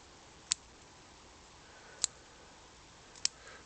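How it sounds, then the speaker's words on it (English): Pruning shears snip back branches of an ilex bonsai, giving three faint, crisp clicks spaced about a second apart against a quiet background. "So we're going to cut it back even more."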